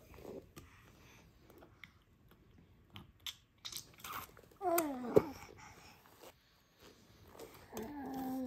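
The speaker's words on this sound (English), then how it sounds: "Yeah, it makes a noise. It crunches." A candy from a bubbly drink is crunched in the mouth, with a few sharp, close crunches and bites rising around the middle and soft mouth noises before and after.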